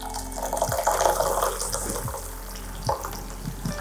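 Water poured into a separate pot to boil before adding eggs, a steady splashing stream with a few small clunks, fairly close.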